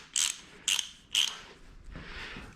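Three quick ratchet bursts ring out close and crisp while strut bar bolts are tightened, evenly spaced, followed by a softer rustle of handling.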